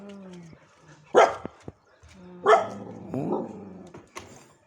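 Puppies barking at the edge of a village, two sharp loud barks followed by a growling yelp and a last short bark, close by, with a low tonal hum between them.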